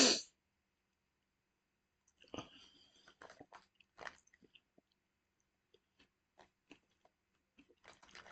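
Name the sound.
chewing a crunchy peanut rice-crispy-like snack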